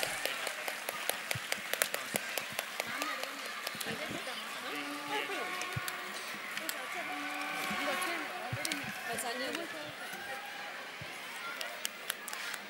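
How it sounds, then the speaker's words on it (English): Parents at a school annual day celebration clap for house captains and participants: scattered, sharp claps in uneven rhythm, moderately distant, mixed with crowd chatter and a voice over a loudspeaker. "Dear parents, please give them a huge round of applause."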